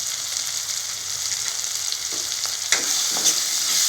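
Turmeric, chili powder, coriander powder and sambar powder sauté in hot oil for a garlic kulambu, giving a steady, close hiss of frying. A couple of soft stirring clicks rise briefly near the end.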